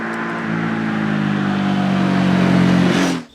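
A Ducati Multistrada motorcycle engine pulls hard under acceleration, a loud, close droning roar that climbs steadily in pitch and volume for about three seconds before cutting off abruptly.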